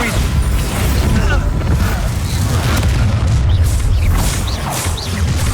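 Bombarda explosion spell going off in Hogwarts Legacy: a dense, continuous booming roar with heavy low rumble and crashing debris, loud throughout with no pauses.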